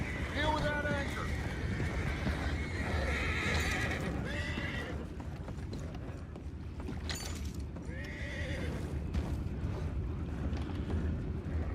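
Horses neighing and whinnying in Red Dead Redemption 2, with several loud whinnies and hoof clops over rumbling wind and water noise while people talk.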